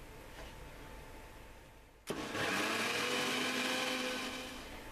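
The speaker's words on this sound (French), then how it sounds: "on va activer le blender pendant 4 minutes" A blender whirring crêpe batter for baghrir snaps on abruptly after a low hum, then runs as a loud, steady, high-pitched motor whine close by that eases slightly toward the end.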